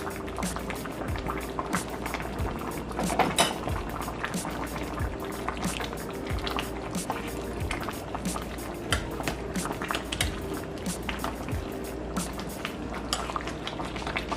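Oil down, a stew with breadfruit and provisions, bubbles hard in a covered pot. A dense, continuous burble of boiling liquid with rapid pops runs steadily at moderate loudness, with no talking.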